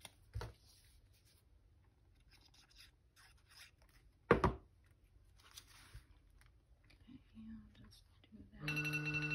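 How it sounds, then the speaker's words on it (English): A loud timer alarm buzzes and vibrates against a surface, bursting in near the end as a steady tonal ring after quiet, sparse rustling and crunching of paper crafting. "there's my timer. It's very loud because it's on something that vibrates."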